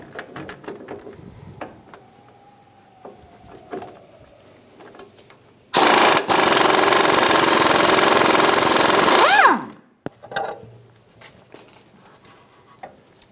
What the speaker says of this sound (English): And using an 18 millimeter socket, we're gonna remove the nut.